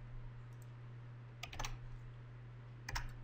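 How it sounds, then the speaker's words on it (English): A few sparse keystrokes on a computer keyboard, two small clusters of clicks heard faintly and close over a steady low hum. "So I'll come in here and I'll just type in design your home"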